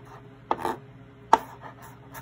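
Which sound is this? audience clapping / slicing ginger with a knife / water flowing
slicing ginger with a knife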